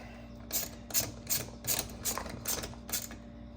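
A socket wrench ratcheting as it tightens the nut on a chainsaw clutch rod, eight quick evenly spaced clicking strokes, close and fairly quiet, with no talking.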